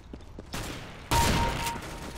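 Gunfire in Counter-Strike: Global Offensive, a burst of in-game shots that starts softer and then jumps to a loud, sustained barrage of rapid fire, with no talk over it.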